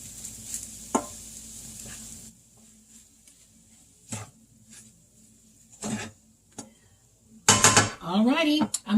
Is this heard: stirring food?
yes